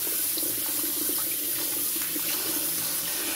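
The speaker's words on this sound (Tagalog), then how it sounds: "At hugasan natin yung ating luya." Steady tap water pours into a sink while ginger is rinsed in a home kitchen, a continuous close splashing rush with no pauses.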